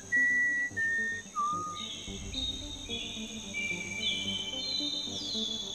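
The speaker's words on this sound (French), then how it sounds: "vous avez une scène où ils sifflent et les oiseaux sifflent aussi de retour" A film scene in which people whistle and birds whistle back: short high whistled tones and chirps ring out over a constant chorus of crickets and insects, with no talk.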